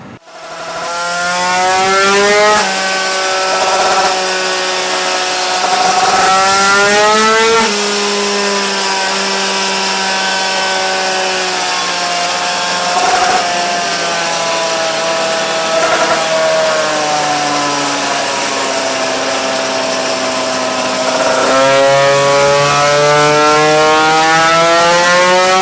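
A Magnum Racing 100 nitro RC car engine running after a carburetor jet change, screaming loudly and steadily throughout, its pitch rising and falling in several sweeping revs with a few brief dips.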